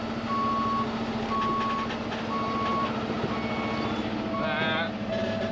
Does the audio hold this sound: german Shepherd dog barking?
no